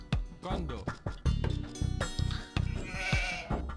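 Repeated sheep bleats from Age of Empires II HD, layered under a person talking, with pulsing rhythmic game sounds in the background.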